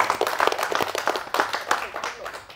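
A crowd claps at a Ganesh festival gathering for the 2024 Ganpati arrival in Warasiguda, a quick burst of uneven applause close by that thins out over a couple of seconds.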